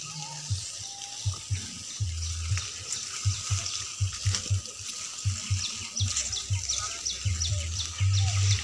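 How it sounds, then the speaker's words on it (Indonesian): Hand sprayer spraying water over freshly fertilized grass outdoors, a steady broad hiss running throughout with short pulses, birds chirping in the background and a voice talking intermittently. "Kita siram-siram seperti ini."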